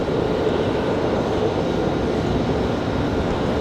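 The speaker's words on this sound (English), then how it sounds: "There's our little red exec jet." A small red executive jet at Raleigh Durham airport gives off a loud, steady broadband engine roar that holds constant throughout, with no talk.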